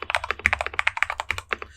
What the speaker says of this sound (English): here is my baby kangaroo sound on KC84